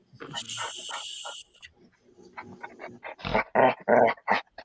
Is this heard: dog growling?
yes